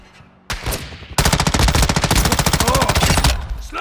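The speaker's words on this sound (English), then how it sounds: "Taking effective fire!" Loud, rapid automatic gunfire from Modern Warfare 2 on PlayStation, a short burst followed by a long sustained stream of evenly spaced shots at close range, tapering off toward the end.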